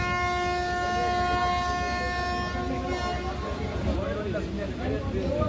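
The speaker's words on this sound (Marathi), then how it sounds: "5:16 आरसीकेरे जंक्शन वरून आपली ट्रेन निघालेली आहे" The Karnataka Sampark Kranti Express pulls out of Arsikere Junction with a sustained horn blast over steady, rumbling wheel and carriage noise that continues as the train moves off.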